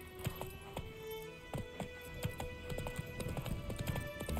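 A horse's hooves in The Witcher 3 clip-clop in a steady, even rhythm while riding, close and continuous over a low background bed of game ambience.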